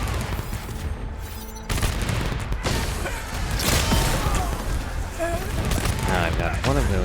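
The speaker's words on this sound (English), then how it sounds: "one of those turrets slowing on, every other turret blasting away" Turrets firing in the video game Arknights Endfield, heard as a dense barrage of rapid gunfire bursts and crashing impacts, with someone talking over the battle noise.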